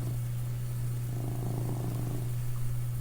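A house cat purrs in a soft continuous rumble close to the microphone, under a steady background hum, and no one speaks.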